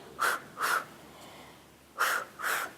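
Four sharp, breathy huffs come in two pairs with a short pause between them, close and distinct, as a person breathes rhythmically through a Pilates exercise while switching legs.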